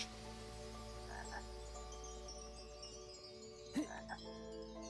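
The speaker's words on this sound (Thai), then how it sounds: "มีเสียงกบนะ" Frog croaking in the puzzle adventure game Lost in Play, a few short croaks near the end over a steady game music and ambience bed, with no talk.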